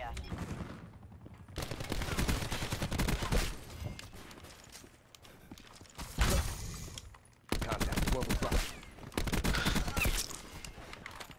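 Enemy gunfire in Call of Duty Black Ops 4: loud bursts of rapid automatic fire in several separate runs, broken by short quieter gaps, with a player's voice heard at times.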